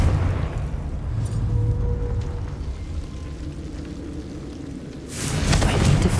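A Confringo fire spell bursts in Hogwarts Legacy, heard as a dense, rumbling low roar that swells near the end, with a brief bright crackle over the top.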